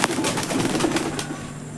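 Pigeons on a farm coo in soft, low, repeated throaty rolls, close by and moderately loud, with a few light rustles and flutters around them.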